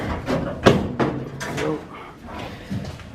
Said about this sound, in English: let's see if I can open up this door.